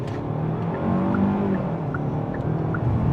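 Hard launch in a 2026 Hyundai Sonata SEL Sport heard from the cabin, a steady engine drone rising under throttle with faint tire squeal, loud and continuous with no talk.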